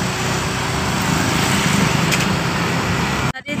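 A motorcycle engine drones steadily during a ride, loud and close with road and wind noise, then cuts out briefly near the end.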